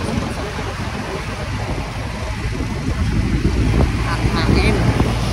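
Wind rushing over the microphone during a long fixed gear bicycle ride toward Pagsanjan, Laguna, a steady loud roaring buffet that swells slightly toward the end.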